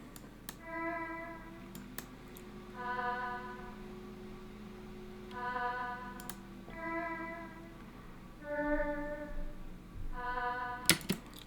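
Synth vox layer in a plugg beat built in FL Studio, playing short harmonic melodic phrases that repeat in bursts over a steady low bass drone, with a few sharp percussive clicks scattered throughout.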